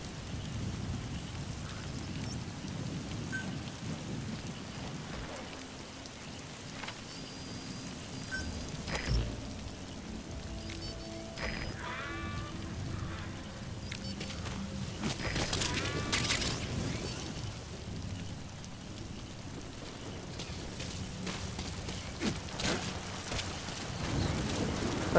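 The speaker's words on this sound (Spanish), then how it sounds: "Está lloviendo, es buena noticia para nosotros" Steady rain hisses throughout in Metal Gear Solid V, with occasional rumbles and scattered clicks and tones layered over the constant downpour. No one speaks.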